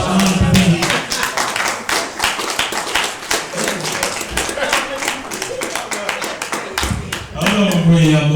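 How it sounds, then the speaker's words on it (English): Audience applause for speaker Brother Richard Muhammad at a talk in Denver: sustained, dense clapping from a crowd, loud and near, running steadily throughout with a voice speaking over it near the end. "Let's give Brother Richard another round of applause"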